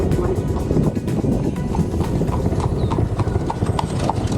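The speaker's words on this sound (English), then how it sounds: "listening to all the horses clip-clopping its ways past us" Several horses clip-clop steadily past on a rural trail in Ohio's Holmes County on a mild day, the rhythmic hoofbeats close and continuous, with some low background rumble.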